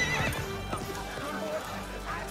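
A horse whinnies loudly at the start, then hooves and faint background sounds continue briefly.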